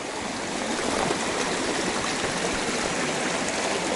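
Lake Fork, a mountain stream near Leadville, Colorado, rushes as a steady, dense broadband wash, close and even for the whole stretch, with no voices.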